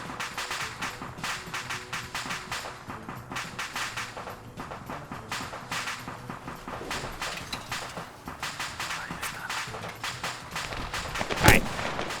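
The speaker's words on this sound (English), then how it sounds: "Rifle grenade was fired." Gunfire in a Cold War-era multiplayer video game battle, with dense, steady volleys of rifle shots throughout and a single sharper, louder blast near the end.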